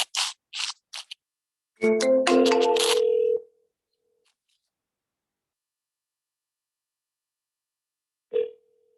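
A single outgoing-call ring tone sounds on a phone line, a steady tonal burst of about one and a half seconds, followed by silence and a brief return of the tone at the end; faint clicks come before it.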